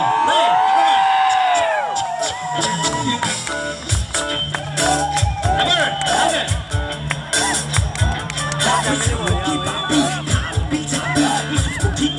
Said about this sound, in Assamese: চিপাঝাৰৰ ডেকাসকলৰ মাতটো আৰু অকণমান ডাঙৰকৈ আহিব বুলি মই ভাবিছোঁ